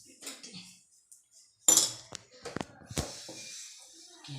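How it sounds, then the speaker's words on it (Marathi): A metal tava griddle is set onto a gas stove in a home kitchen, giving a sharp clanking clatter of metal on metal amid softer handling clinks and someone speaking quietly. "गॅसवर तवा ठेवला आहे."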